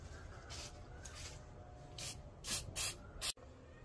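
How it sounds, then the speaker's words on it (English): Several short bursts of aerosol mold release spray hiss in quick succession, the last one cut off sharply, with quiet room noise in between. "this is the mold release. Real quick spray"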